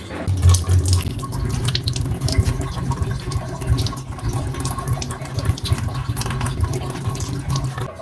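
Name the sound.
washing crabs under running tap water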